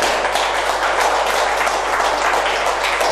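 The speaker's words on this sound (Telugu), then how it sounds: "సోల్ సైన్స్ ఆత్మ జ్ఞానానికి చప్పట్లు." A lecture-class audience at a spiritual science talk clapping together, a dense steady wash of many hands for about three seconds over a low electrical hum.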